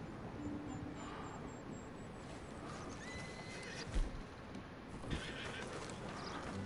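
Horse whinny in Red Dead Redemption 2, a single neigh rising out of a steady game ambience of outdoor hum and a distant aircraft-like drone, with a couple of soft hoof thuds, no talk over it.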